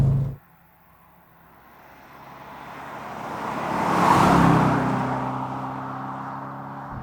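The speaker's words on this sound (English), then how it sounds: "This guy has the obligatory Miltech catback exhaust, but it doesn't sound obnoxious at all" Manual C5 Audi RS6 with a Milltek catback exhaust driving by, a smooth engine note swelling from near silence to a peak as it passes close, then fading into a lingering low drone.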